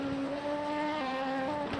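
Race cars run in traffic in the Le Mans Ultimate racing game at Laguna Seca, with a steady, droning engine note whose pitch dips once, continuous and moderately loud with no talk over it.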